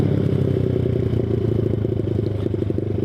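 A Boom Vader Grom-clone small motorcycle rides along near Lake Geneva, its small engine buzzing steadily and loudly close by with a constant droning note and no talking.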